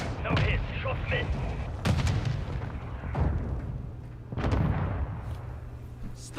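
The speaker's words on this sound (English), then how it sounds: "Stun grenade out!" Booming grenade explosions and gunfire fill a Destiny Crucible match, several heavy thumps with rumbling tails over a constant din of combat.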